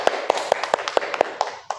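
A class claps for a presenting group in a school classroom, with sparse, separate claps at an irregular pace, loud and close, and no voices over them.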